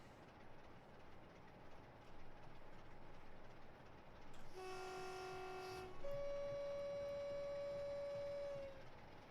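A freight train's horn sounds in a train simulator game set on the East Coast Main Line, blaring in two long steady blasts, the second louder and held for nearly three seconds over a continuous rumbling cab background.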